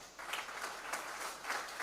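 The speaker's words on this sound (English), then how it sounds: "I think they require a huge round of applause." Audience applause at a PGDM convocation ceremony: a brief, steady wash of many hands clapping, heard at a moderate distance and fairly quiet.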